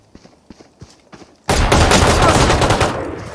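Semi-automatic rifle fire in a Roblox game: a few faint clicks and steps, then a sudden loud, dense volley of rapid shots that keeps going without a break.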